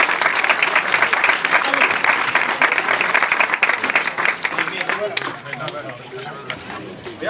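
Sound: audience applauding after combat exhibition

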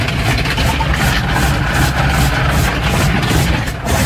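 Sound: car wash rinse on a 2021 Ford Bronco

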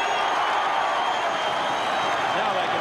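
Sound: football crowd cheering after Ross Ditchburn's goal

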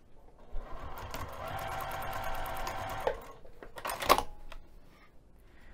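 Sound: sewing machine stitching strap

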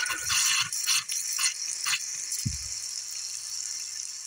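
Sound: hot water running from faucet

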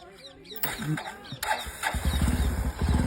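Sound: motorcycle engine starting

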